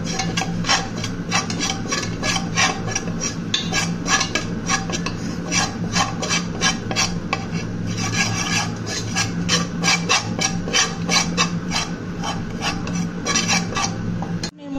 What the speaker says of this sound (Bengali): এখন ময়দাটার সাথে ভালো করে মিক্স করে নেব।